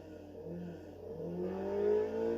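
A car engine in the racing game Need for Speed Heat revs and builds speed, its tone climbing steadily under a faint constant hum, with no talk.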